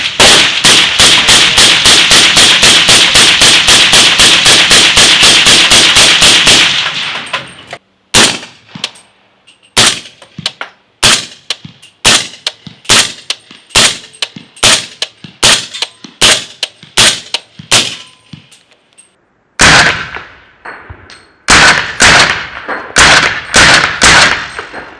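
A CMMG Banshee short-barreled rifle in 300 Blackout fires a rapid string of loud sharp shots, then a steadier series of single cracks with brief gaps, and ends with another quick burst.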